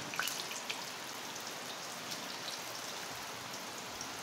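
Taro pieces fry in hot oil with a constant soft sizzle and scattered crackles, faint and steady throughout.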